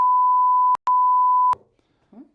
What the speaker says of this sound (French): il faudra peut-être biper ça